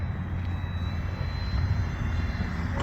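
An eFlite Ultimate 3D RC biplane on a small 3S battery flies overhead, its electric motor giving a steady, continuous drone in the air.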